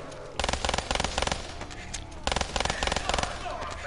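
Video game gunfire in rapid bursts of clipped automatic shots, two main volleys with short gaps, loud and close over a steady background game soundscape.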